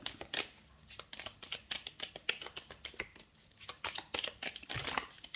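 Tarot cards are laid out on a surface, producing soft, quiet papery slaps, flicks and shuffles in an uneven rhythm at close range, with no voices.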